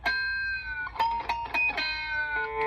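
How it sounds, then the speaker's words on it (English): Electric guitar playing pick squeals and artificial harmonics, several sharp plucked notes with high, ringing, squealing overtones, clear and close with short gaps between them. "he's doing this little pick squeal. I don't know if you know how to do an artificial harmonic"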